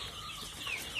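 Native chickens on a broiler farm in Thrissur cluck softly at a distance, a faint, brief scatter of calls over low background noise.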